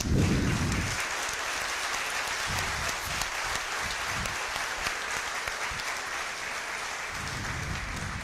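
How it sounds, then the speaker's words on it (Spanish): Steady, even applause from an audience at an automotive control-unit reprogramming technology presentation, a continuous wash of clapping sustained throughout without voices. "quisiera que honremos el trabajo de Tony con un fuerte aplauso, por favor"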